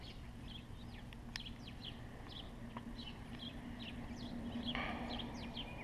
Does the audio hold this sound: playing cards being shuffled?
no